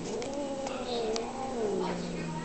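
A cat, close by, gives a drawn-out, wavering meow whose pitch rises and falls over a couple of seconds.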